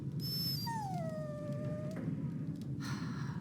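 A dog in Dragon Age Origins lets out a drawn-out, falling whimper close by, a single plaintive whine that trails off over steady background ambience.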